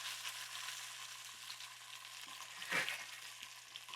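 Lemon chicken fries in oil in a pan with a quiet, steady sizzle and a brief stir or shift of the pieces partway through, faint and without voices.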